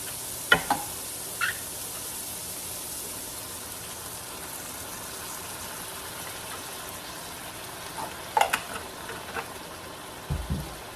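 Canned vegetables soften in a pan for chicken burrito filling, a quiet, even low sizzle with a few sharp utensil clinks and scrapes near the start and end.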